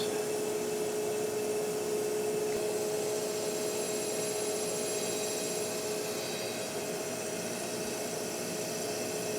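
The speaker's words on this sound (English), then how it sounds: "There you can see where I'm grinding. I got the full width of the stone going there." A grinding stone working the full width of a worn John Deere 4230 axle shaft held in a steady rest, giving a continuous, even machine whine and hum with a steady tonal drone, moderately loud and unbroken.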